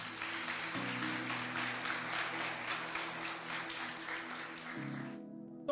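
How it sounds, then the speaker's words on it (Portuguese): Church congregation applauding together during a sermon, a steady dense wash of clapping filling the room for several seconds before stopping abruptly near the end. "Você pode aplaudir a Ele por isso?"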